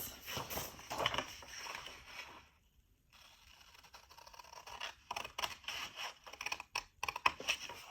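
Sketchbook paper pages are cut carefully along straight lines, producing a steady close scratching and ticking texture, briefly interrupted by a pause and then a run of crisp rhythmic snips, with no voices.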